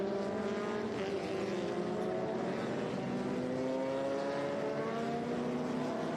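Vintage race cars, Lotus 23Bs, a Bobsy SR3 from 1963 and Elva Mark 7s, circling Laguna Seca, their engines droning steadily and loudly throughout with overlapping pitches rising and falling as cars pass, no talk.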